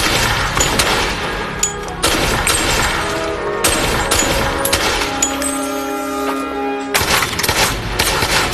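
Heavy gunfire in a dramatic action scene, with dense sustained bursts of shots and booming impacts in several loud waves, some shattering crashes mixed in and no talking.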